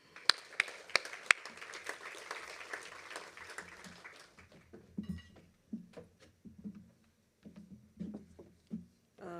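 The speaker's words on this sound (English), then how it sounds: "please give a big round of applause for Professor Dollard" An audience at a workplace health and education industry breakfast applauds a professor, clapping strongest at first and thinning into scattered claps over the following seconds, with clinks of cups and dishes and faint voices.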